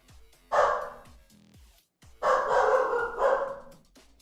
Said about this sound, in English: Why is my dog going mad?